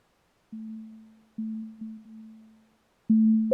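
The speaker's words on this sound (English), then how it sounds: "You can also hear that there's a stereo delay." Steady sine-like tones from a clip in Tranzient VR with stereo delay and reverb applied, sounding as a few sustained notes that start abruptly and decay slowly with trailing repeats, ending in a louder final burst.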